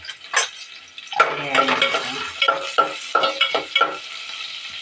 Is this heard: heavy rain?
no